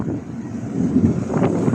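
Strong wind buffets the microphone in loud, low rumbling gusts during a rainstorm, rising and falling over a short stretch.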